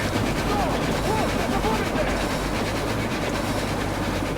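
A rumbling train in a nuclear horror video game rolls steadily along, a low mechanical drone with faint rhythmic clatter, constant throughout.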